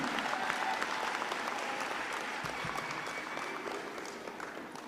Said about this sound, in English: Clap them again, man.